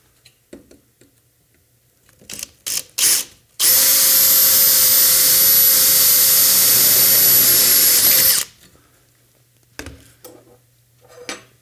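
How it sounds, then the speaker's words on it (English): A power drill bores a hole through a metal launcher chassis in one loud, steady whine lasting about five seconds, with scattered clanks and handling knocks before and after. "and grab the drill."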